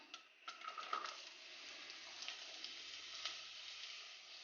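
Chopped onions sizzle in coconut oil in a heavy-based pan on the hob, a steady fine hiss with a few brief crackles near the start, alone and fairly quiet.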